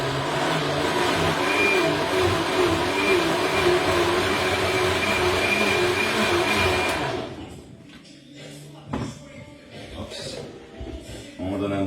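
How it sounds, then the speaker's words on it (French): A kitchen blender whirs loudly and steadily as it mixes ingredients for several seconds, then cuts off, leaving quieter clattering and handling noises. "On donne un petit coup d'aide au blender."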